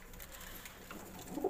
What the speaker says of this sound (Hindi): शाबदार डब वाले कबूतर आए ने